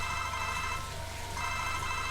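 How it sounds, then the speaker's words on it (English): A telephone rings steadily in a Sim City 4 game scene, an electronic bell tone pulsing without a break against a continuous background hum, moderately loud and with no voices present. "I'm just going to ignore that phone."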